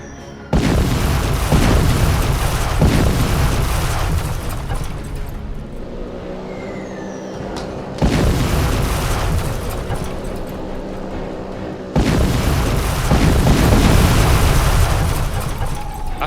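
Loud, deep booming explosions in GTA 5 erupt in three bursts, each followed by rumbling decay, with a softer lull of mechanical humming between them.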